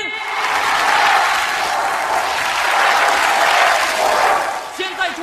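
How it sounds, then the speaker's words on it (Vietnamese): An audience at a staged competition show applauds as two contestants walk out, sustained loud clapping filling the whole stretch before fading slightly at the end. "hãy cùng nhiệt liệt vỗ tay chào mừng hai tuyển thủ của chúng ta bước ra lễ đài"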